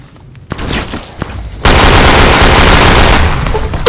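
Video game gunfire in a magazine dump: a few scattered shots at first, then a loud, dense burst of continuous automatic fire that fills the rest of the moment.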